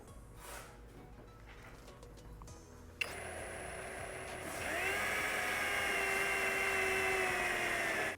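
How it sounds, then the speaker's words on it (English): A power drill with a 3/32 bit boring pilot holes in the sheet metal of a 2022 Subaru WRX for a spoiler install: a faint tick, then a sharp start into a steady high whine that rises and holds until it stops. "we're going to go ahead and make our first pilot holes on each one of our crosshatches"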